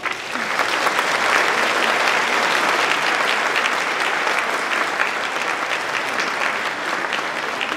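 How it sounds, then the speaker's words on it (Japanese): A crowd claps steadily and loudly for several seconds at the Fukuchiyama Music Festival 2024 in Japan, dense applause with no pause, welcoming students onstage. "皆さんどうぞ拍手でお迎えください。"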